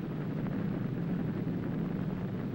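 A nuclear explosion's low, continuous rumble as the mushroom cloud forms, pulling up pulverized debris and molten earth; a steady, dense roar with no distinct peaks, alone without voices.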